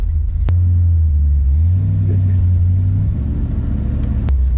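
A 1976 Corvette, revived after sitting ten years, rumbles loudly and steadily as it drives, its deep engine note rising and settling with throttle and a couple of sharp clicks standing out above it.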